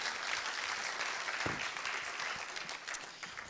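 Audience applause at an awards ceremony, a steady dense clapping from a crowd that holds at an even level throughout, with no voices above it.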